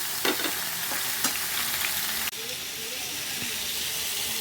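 Pumpkin, potato, chickpeas, peanuts and tomato sizzle loudly in a hot pan, a dense crackling fry with a few stirring clanks and a sudden dip as more ingredients go in.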